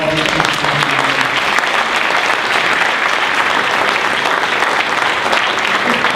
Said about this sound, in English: Could you join me in just giving a round of applause for all these people?